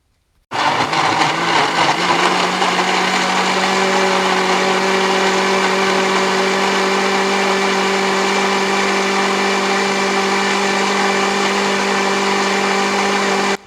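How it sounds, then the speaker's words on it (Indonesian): A kitchen blender starts abruptly and runs without pause for over twelve seconds, whirring loudly and evenly as it purees chopped, washed broccoli. "tinggal kita blender"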